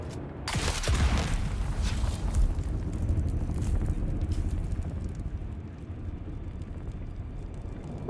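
A fire bomb going off in Dune Awakening, a sudden close blast followed by a long rumbling, crackling burn that slowly fades, with no voices over it.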